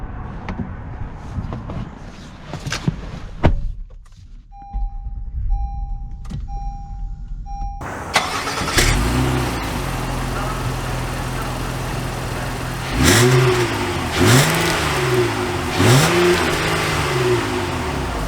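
A 2022 Honda Pilot Black Edition SUV starts up with a brief whir before the engine catches, then settles into a steady idle and pulls away, its engine rising in repeated swells as it accelerates, with a few faint clicks.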